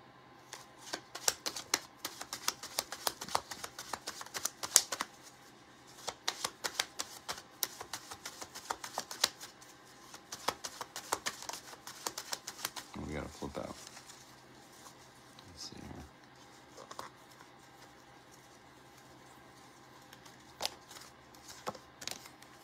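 Tarot cards being shuffled by hand, a soft fluttering riffle of rapid papery clicks in bursts, fairly faint and close, with a voice speaking at times.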